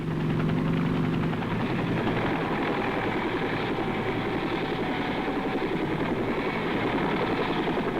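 Military helicopters of an American Air Cavalry division in the Vietnam War fly overhead, a loud, continuous rotor and engine roar with a dense pulsing throb that holds steady for several seconds and has no talk.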